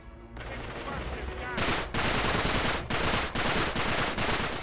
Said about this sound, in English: Oh, some great shooting there.